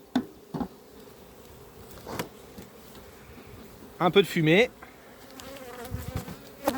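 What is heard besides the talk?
honey bees in an opened nucleus hive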